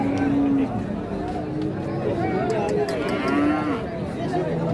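Bulls being sold at a crowded Bangladeshi livestock market ahead of Qurbani, with drawn-out moos rising over a steady hum of people talking and chattering nearby.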